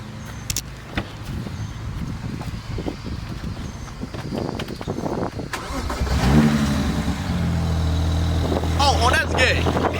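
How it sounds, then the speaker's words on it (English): A BMW 335i that had trouble starting cranks and catches, then settles into a loud, steady idle close by, following scattered knocks and movement while people talk over it. "Oh, should I start the car?"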